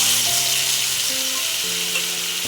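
A paste of tomato, cashew, green chilli and ginger frying in hot oil gives a loud, steady, close sizzle, with faint tonal notes beneath it.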